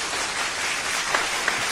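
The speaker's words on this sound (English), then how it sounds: "That was a round of applause for those guys." A live-show crowd gives a round of applause to performers, a continuous dense roar of clapping heard at a steady level, brief and without any talk.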